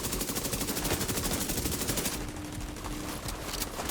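Rapid automatic gunfire in a Division shooter game rattles in a fast, steady stream, loud and close, then continues a little more thinly with a few scattered shots.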